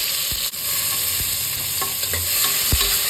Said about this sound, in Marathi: कांदा छान लाल परतला गेलाय